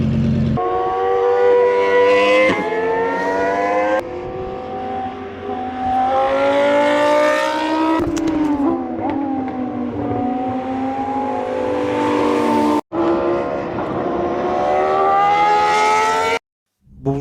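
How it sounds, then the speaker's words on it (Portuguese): A Ferrari and other race cars pass at a racing venue, with loud engines revving and rising and falling in pitch as they go by one after another, and no talking. "ali um Ferrari a passar também."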